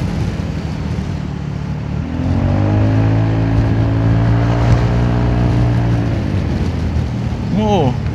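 A Honda Forza 350 scooter fitted with a homemade racing air filter revs up close, its engine tone climbing and holding as a loud, sustained drone, and a voice is briefly heard near the end.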